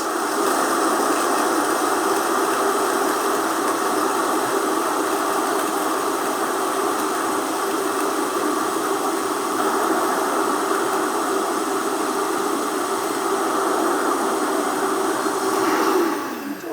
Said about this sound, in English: All right, let's do this. Yeah, blend it.